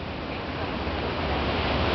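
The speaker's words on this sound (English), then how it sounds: "The waves break way out there past the shoreline, and then they come in really slow and lulling." Ocean waves break far out past the shoreline of Coronado's long, sweeping beach, heard as a steady, full, close wash of surf that swells slightly louder toward the end, with no voices.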